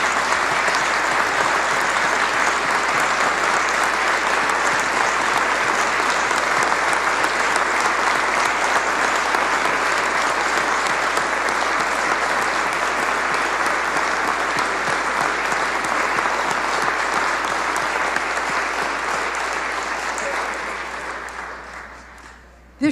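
Sustained, loud applause from a large audience in a legislative chamber during the Kansas governor's State of the State address honoring teachers, a dense steady roar of clapping that fades out at the end.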